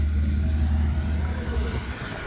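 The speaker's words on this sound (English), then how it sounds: "More tractors, the joys of Lincolnshire." Loud, steady low engine rumble of a tractor passing close by on a country road in Lincolnshire, filling the whole clip with continuous drone and slight swells as it goes past.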